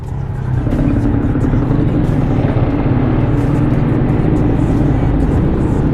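A Benelli Motobi 200 Evo motorcycle engine runs loud and close under throttle, a dense, steady low roar that holds without a break for the whole stretch.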